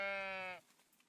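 A sheep in the video game Tiny Glade gives one clear, close bleat when petted, a short nasal tone that stops abruptly into quiet.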